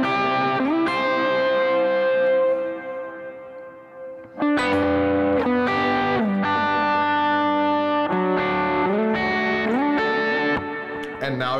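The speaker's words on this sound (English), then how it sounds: "Now it's just delay with no reverb." Electric guitar through a delay pedal with no reverb, playing sustained distorted chords and lead phrases in a worship-style tone, with repeating echoes trailing each note; loud and steady, pausing briefly midway before resuming.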